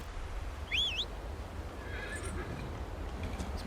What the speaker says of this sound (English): let's call a horse here.